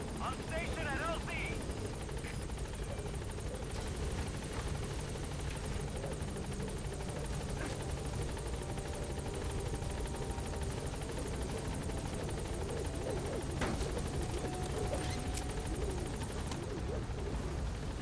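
Helicopter Pequod arriving at a landing zone in a video game, a steady rotor and engine drone filling the scene throughout, with people talking over it.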